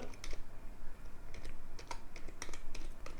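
Rapid clicking of keys on a computer keyboard, irregular bursts of typing heard nearby with no talking.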